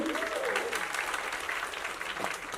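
An audience at a school annual day at Finland International School cheers and applauds, a loud, continuous wash of clapping with raised voices that fills the hall from start to finish.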